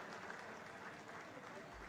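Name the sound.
audience applauding at awards function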